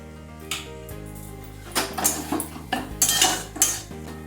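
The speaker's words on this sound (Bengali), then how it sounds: "ডিমটা নাড়তে নাড়তে এর মধ্যে আমি সামান্য একটু গোলমরিচের গুঁড়ো দিয়ে দিলাম" A spatula clinks and scrapes against a pan while egg is stirred and fried, giving a series of sharp metallic knocks and scrapes in irregular bursts, close and fairly loud.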